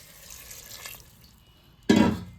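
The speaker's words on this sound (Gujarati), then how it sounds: "પછી એને કુકરમાં ચડાવી પછી એમાં પાણી નાખી દેવાનું" Water poured into a pressure cooker holding vegetables, a sudden close, loud splashing gush in the final half-second after quiet low background.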